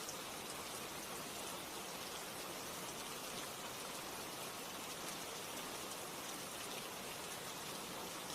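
Steady rain falls in a dense, even hiss with no breaks, a continuous wash of drops without any voices.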